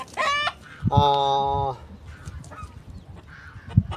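Ducks calling in a desert farm setting: two bursts of loud, nasal honking calls close by, the second longer and more sustained, followed by quieter background noise and a few faint thumps.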